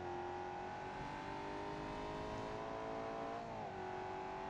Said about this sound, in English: I can hear his car from here. That's a loud car, I think.